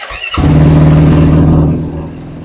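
A motocross bike with a Dasa exhaust revs hard and loud on a dyno, holding a high steady roar for about a second before winding down.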